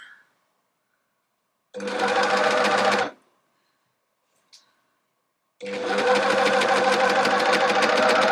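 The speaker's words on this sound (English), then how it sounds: "So let's get this overlocked off." An overlocker stitches a hoodie seam in two long, steady, loud runs. A brief mechanical click sounds in the silent pause between them.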